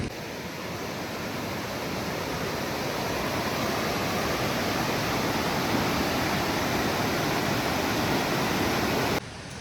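Ghonsari waterfall near Kankavli in the Konkan region roars as a steady, loud broadband rush of falling water, continuous and close for nearly the whole stretch before cutting off abruptly near the end, with no voices.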